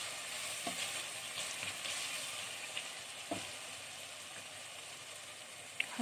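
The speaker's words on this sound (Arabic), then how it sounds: "بس هشوح البصل شويه الاول" Onions sizzle and fry steadily in a pan with occasional stirring scrapes, close and continuous with no talk.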